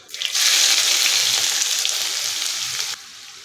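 Chopped onions with crushed ginger and garlic hit hot oil already holding mustard seeds and cumin, giving a loud, bright sizzle that flares up at once, holds steady for a few seconds, then drops off sharply.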